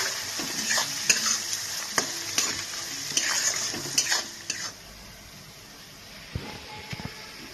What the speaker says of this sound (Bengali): দিয়ে এটাকে একটু আমি ভালো করে ভেজে নিচ্ছি।